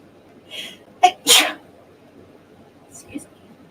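Two close sneezes in quick succession, the second louder, followed by a faint murmur.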